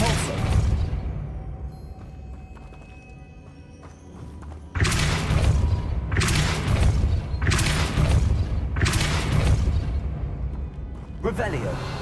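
Depulso force spell cast in Hogwarts Legacy, heard as a series of four or five heavy booming thumps at roughly regular intervals, loud and close, following a quieter stretch of game ambience.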